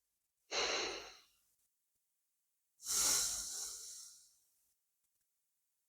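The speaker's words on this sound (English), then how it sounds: "And breathe." Two slow, deep breaths taken during a yoga sphinx pose, each a soft airy exhale with a long quiet pause between them, close and alone.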